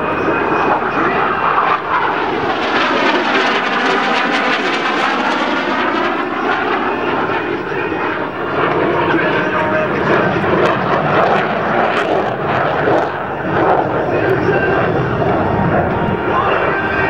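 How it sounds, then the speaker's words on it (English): A US Navy F/A-18C Hornet jet roars past at an air show demonstration, a loud continuous engine rush with a sweeping pitch shift as it passes, while an announcer talks over the noise. "FA-18 Hornet."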